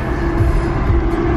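Steady low rumble of a moving train heard from inside a passenger compartment, constant and fairly loud with no break.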